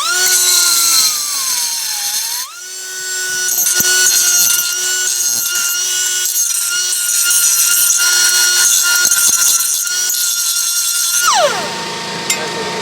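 Power grinder whining steadily as it takes a burr off a wheel hub during a 2003 Chevy Suburban front hub replacement, a loud sustained tool tone that dips briefly, resumes, and winds down near the end.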